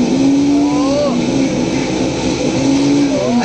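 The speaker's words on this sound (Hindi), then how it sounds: "This is bike racing sound." A motorbike racing sound effect plays at a demonstration at Ramoji Film City. It is a loud, continuous engine whine that rises and falls in pitch in short sweeps, with a steady roar underneath throughout.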